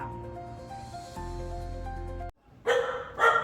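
Puppies bark at workers who have just rung the doorbell at a home, a couple of sharp close barks bursting out after a steady tonal hum and a brief pause.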